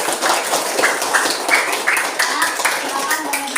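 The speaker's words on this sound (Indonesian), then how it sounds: "Tepuk tangan untuk semuanya." Children clapping hands in an elementary school classroom, a rapid, fairly even stream of claps with voices mixed in underneath.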